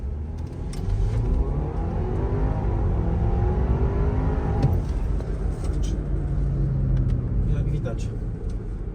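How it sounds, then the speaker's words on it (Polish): A 2021 Audi Q5 2.0 with 265 hp and direct injection, converted to run on LPG, accelerates with a steady engine drone and rising revs through the gears, heard from inside the car while people talk. "Autko jedzie super pięknie wystrojone. I oczywiście na LPG."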